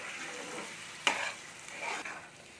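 Sago pearls are stirred in ghee in a pan, giving a soft, quiet scraping and light sizzle with two brief sharper scrapes.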